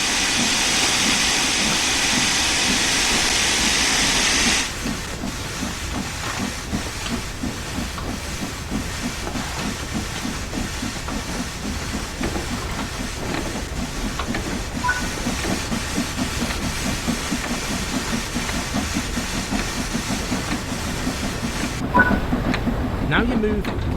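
A steam locomotive in Train Sim World 3 gives a loud hiss that cuts off, then pulls away with a rhythmic chuffing that quickens slowly over time.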